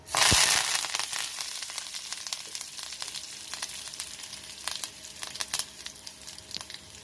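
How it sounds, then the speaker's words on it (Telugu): Curry leaves dropped into hot oil give a loud, bursting sizzle at the start, then settle into a steady crackling fry with scattered sharp pops throughout. "కరివేపాకు బాగా ఫ్రై అయింది కదా"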